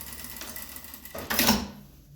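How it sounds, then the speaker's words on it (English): A sewing machine backstitches a gown sleeve at the armpit, a short burst of rapid mechanical stitching that rises to a louder run near the end, heard close with no talking. "So that's sewing in the sleeve at the armpit."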